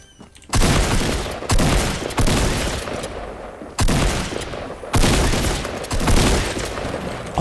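In Fortnite: Battle Royale, loud bursts of rapid gunfire come in several separate volleys, each cutting off with short gaps between them.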